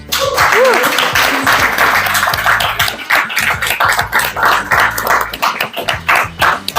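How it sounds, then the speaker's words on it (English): Applause from an auction audience greeting the artist in the room, a dense, steady wash of clapping that carries on for several seconds and is mixed with a voice in the opening moments. "I'd like you all to give her a round of applause."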